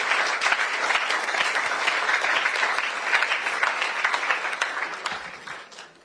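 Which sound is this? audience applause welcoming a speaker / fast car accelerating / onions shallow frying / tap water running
audience applause welcoming a speaker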